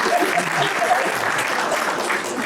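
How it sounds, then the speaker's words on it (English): An audience at a national consultation session for a customs programme applauds, a steady, dense patter of clapping from many hands lasting the whole short stretch at even loudness. "Round of applause to him."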